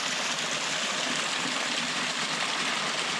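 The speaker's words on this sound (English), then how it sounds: "A little water feature coming down the logs." Water trickles and splashes down logs beside a mountain trail at Mt Rainier. It makes a soft, steady broadband rush with no pauses or voices.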